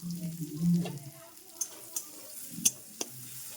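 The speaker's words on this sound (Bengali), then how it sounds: "এর সাথে ভালো করে মশলাটা মাখিয়ে নেব" A spice mix is stirred into soft cooked tomato in a pan, giving a low sizzle with scraping strokes early on, then a few crisp ticks and clinks of a utensil against the pan.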